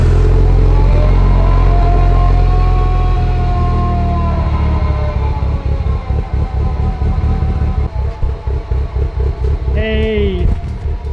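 A fully built Mitsubishi Evo 8 engine with cams rumbles loudly on first start, then settles into a lumpy, uneven idle with a choppy pulsing beat; a brief high squeal cuts in near the end.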